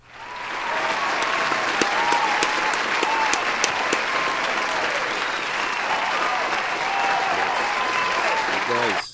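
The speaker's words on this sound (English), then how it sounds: "you deserve to give yourselves a round of applause" A studio audience breaks into a sustained round of applause, loud and continuous for the whole stretch, with dense clapping and some crowd noise, and no speech over it.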